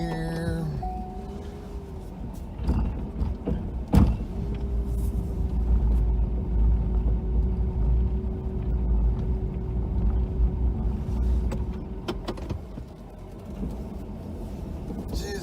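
A pickup truck plowing snow manoeuvres in a tight spot, a low steady engine rumble with occasional clunks and a brief higher mechanical whine, fairly close and continuous without talk.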